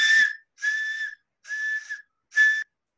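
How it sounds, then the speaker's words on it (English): A whistle used to attract wild dogs sounds four times, short clear high-pitched blasts separated by brief pauses, close and alone. "So using this whistle"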